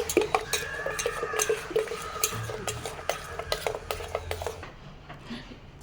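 A spoon stirs salt into buttermilk in a metal vessel, clinking against the sides in a quick, steady rhythm, close and fairly loud.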